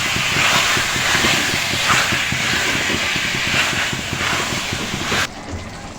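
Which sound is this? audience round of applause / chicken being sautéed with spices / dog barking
chicken being sautéed with spices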